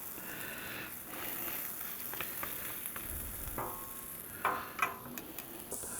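Shrimp frying on a Blackstone griddle, a steady sizzle with a few sharper ticks and scrapes from stirring, close and moderately loud with no talking.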